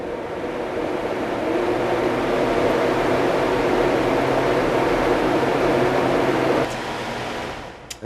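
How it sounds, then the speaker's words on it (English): Blower door test fan running in a house for an air-tightness check, a loud, steady whirring rush of air that drops off near the end. "I'm going to turn on the fans."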